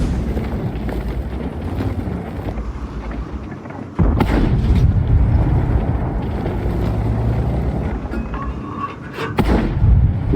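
Tank cannon fire in a tank video game, an OBJ-140 battle, heard as loud booming shots at about 4 s and 10 s over constant engine rumble and battle noise.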